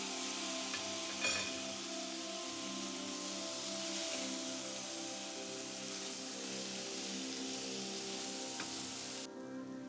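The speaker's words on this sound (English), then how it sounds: "Next, add the diced tomato and give it a stir." Diced tomato, grated ginger and garlic stirred in a hot pot of green moong dal give a steady, soft sizzle and hiss with faint scraping, continuous and fairly quiet throughout.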